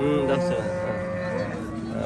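Cattle moo and low at a busy livestock bazaar selling dairy cows, with drawn-out calls overlapping crowd murmur and faint voices throughout.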